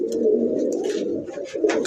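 Pigeons at a pigeon farm coo in a low, steady murmur throughout, with a few brief higher bird calls over the top and no speech.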